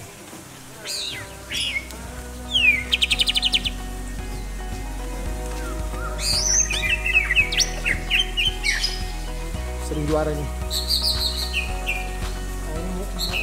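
A young oriental magpie-robin calls in bright bursts of whistles and chattering phrases, close and loud over a steady background hum, with a brief spoken remark.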